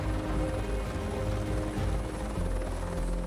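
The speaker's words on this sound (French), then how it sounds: "C'est en hélicoptère que Peter Schwitter se rend à son travail" A helicopter flying over the Valais Alps in Switzerland thumps its rotors in a steady, fast rhythm over a loud engine drone, close and continuous throughout.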